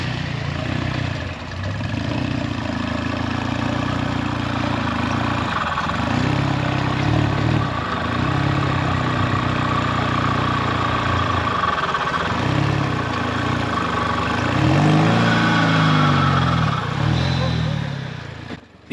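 An off-road buggy on a single-seat Jesse Haynes chassis with portal axles idles loudly and steadily nearby, its rumbling engine swelling briefly near the end, with voices partly heard over it.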